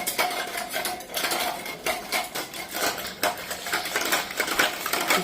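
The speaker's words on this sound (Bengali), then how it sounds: "চিনিটা দিয়ে ভালো করে ফেটে নেব।" Sugar is whisked into yogurt in a bowl for a cold lassi, giving quick, uneven clinks and scrapes of utensil against the dish, close and busy, with no voices.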